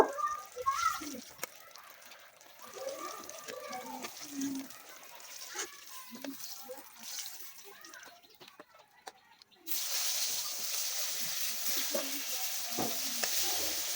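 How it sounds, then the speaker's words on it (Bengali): Eggplant pieces fry in oil in a pan over a clay stove, turned now and then with soft scrapes and crackles before a loud, steady sizzle takes over. "আমি বেগুনগুলো এপিট উপিট উল্টিয়ে ভালো মতো ভেজে নিচ্ছি"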